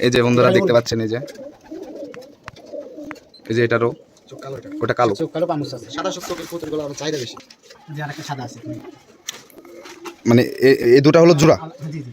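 Jalali pigeons coo in repeated throaty bursts, loud and close, with quieter stretches of cooing between them and people talking now and then.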